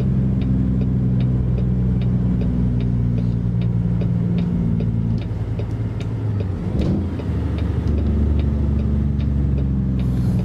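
Heavy truck engine in a trucking simulator downshifting hard while slowing for a highway exit between Reno, Nevada and Tremonton, Utah: a steady low droning rumble that dips and shifts pitch midway, then settles, with no talk.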